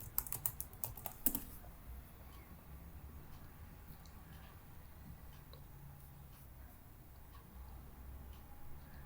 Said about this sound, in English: let me type here a general question